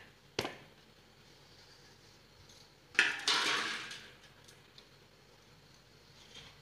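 Steel plates in a home kitchen as steamed dhokla is flipped out onto one: a single sharp metallic clink, then a louder clattering ring that fades slowly, with quiet room sound between.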